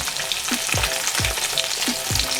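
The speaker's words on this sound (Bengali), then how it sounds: "যেটা আমি মাছগুলো ভেজে নিই" Rohu fish pieces fry in hot oil for a fish curry, a steady loud sizzle with periodic low scraping strokes as the pieces are stirred and turned.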